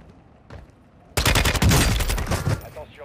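Rapid bursts of close gunfire in the Warzone battle royale game, a sudden loud fusillade of overlapping shots after a quiet stretch with a brief earlier sound, then fading out.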